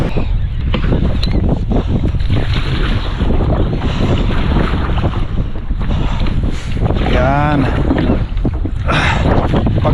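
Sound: kayak paddling on windy, wavy water

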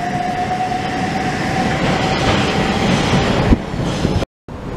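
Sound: Southeastern High Speed Javelin train departing Ashford International

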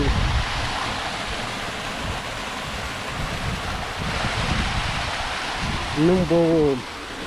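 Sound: waterfall pouring water in Wadi Kharar

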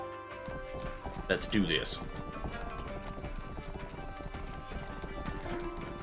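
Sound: horse-drawn carts clip-clopping in the video game Rustler

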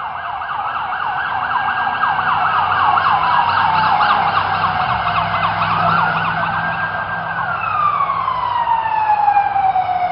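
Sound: police car siren

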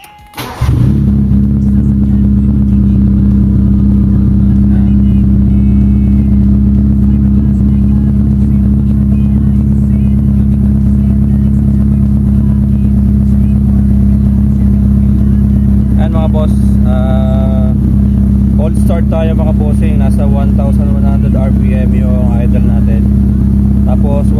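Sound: car engine starting and running

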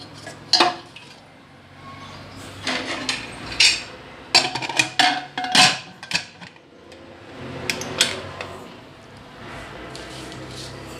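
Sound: pressure cooker being set up with moong dal

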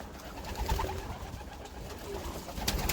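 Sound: pigeons cooing

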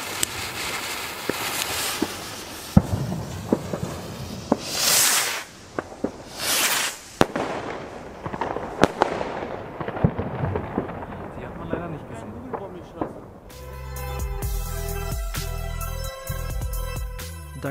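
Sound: Xplode Powercrafter XPE 2710 firework rockets launching and exploding

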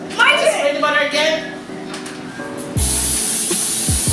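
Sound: cooking spray butter sprayed into pan

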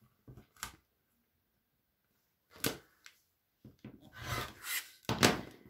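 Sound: cutting fabric for pattern weights

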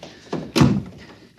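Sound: heavy door being closed, radio drama sound effect

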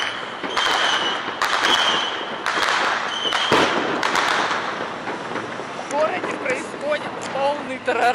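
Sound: festival fireworks and firecrackers exploding

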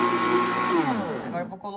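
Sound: powerful blender running

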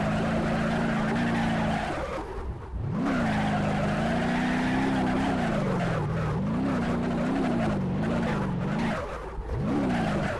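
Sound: pickup truck engine revving in video game The Drive

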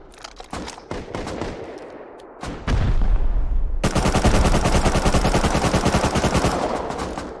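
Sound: pistol gunfire in the video game Rust

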